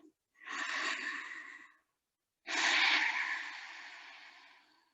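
Two long, deep breaths during a yoga session, a slow inhale then a fuller exhale, close and clear with a short pause between them and no talking.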